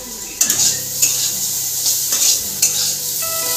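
Stirring in pots on a home stove while potato fry, jute leaves, dal and an omelette cook, with sharp metal clinks of a utensil against the pot at irregular intervals over a steady sizzle.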